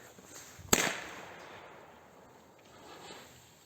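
A single sharp firework bang cracks out early, followed by a fading crackle and hiss as the shell's effect trails off.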